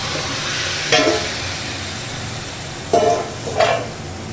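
Marinated chicken cooking in hot masala in a pan, a steady soft sizzle broken by three short scraping stirs of a spatula, close and without voices.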